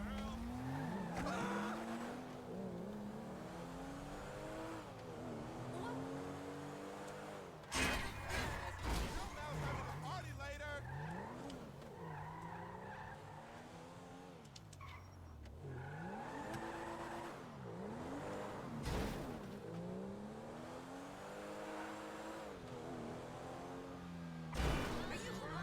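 A car driven in GTA Online on PS5 revs hard and continuously, its engine pitch repeatedly climbing and dropping through gear changes, with tire skids and sharp crash-like thumps near the middle and end, loud and close throughout.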